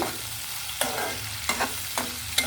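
Tomatoes and tamarind fry in a pan for a bachali greens tomato chutney, with a soft, steady sizzle broken by several close scraping stirs and no talking.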